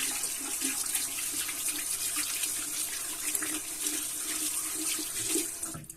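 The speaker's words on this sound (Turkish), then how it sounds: "Şimdi elimi yıkıyorum." Tap water runs steadily into a sink as hands are washed before shaving, a continuous close splashing hiss lasting several seconds without talking.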